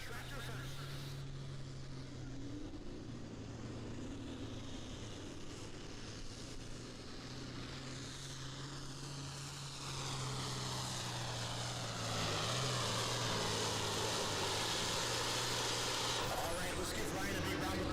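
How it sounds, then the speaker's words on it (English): Pulling tractor at a tractor pull at the Adams County Fair, a deep droning engine that holds steady and then builds louder toward the end, heard at a distance beneath a crowd and announcer's talk. "We're sending our tractor first."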